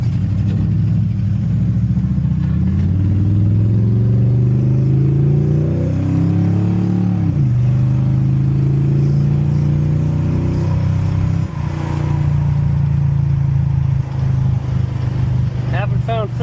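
An old, cheap Chevrolet El Camino in need of restoration accelerates while driving, its engine note rising steadily through the revs with a gear change partway and then climbing again, loud and close throughout.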